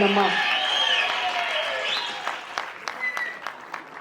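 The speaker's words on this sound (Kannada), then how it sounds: "ಅವರಿಗೆ ಒಂದು ಜೋರಾದ ಚಪ್ಪಾಳೆ ಬರಲಿ" A live audience at a music concert applauds the musician, with scattered claps growing out of a tonal passage of music and voice and continuing in uneven bursts.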